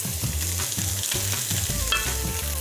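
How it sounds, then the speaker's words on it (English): Fried potatoes, green beans and carrots being stirred with spices in a hot pan, a steady close sizzle with repeated scraping strokes of a utensil across the pan bottom, no voices. "Stir this through and just scrape the bottom of the pan to release the spices that are sticking."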